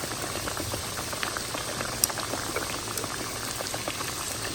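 A pot of water boils steadily with noodles cooking in it, giving a constant low bubbling roar with tiny pops and one sharp tick partway through, with no one speaking.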